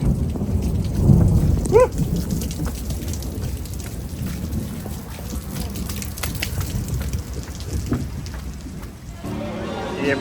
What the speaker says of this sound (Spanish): este palo de agua que cayó y sigue lloviendo